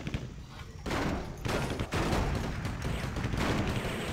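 Turrets firing in Warcraft 3, a dense continuous barrage of rapid gunfire-like bursts throughout, loud and close, with game noise layered over it.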